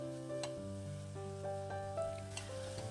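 Sliced onions sizzle and crackle steadily in a hot pan over a raised flame while being stirred for an egg roast, with scraping spoon clinks and scattered pops over a constant frying hiss.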